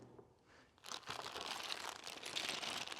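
After a brief quiet moment, a sealed plastic bag from a Segment MT 402 swing gate opener kit crinkles and rustles close by, crackling continuously for a couple of seconds.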